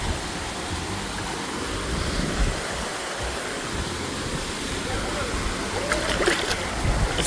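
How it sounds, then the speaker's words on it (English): A small waterfall at a Philippine hot spring gives off a steady broadband rush of falling water, constant and fairly close, with faint voices in the background. "This little waterfall."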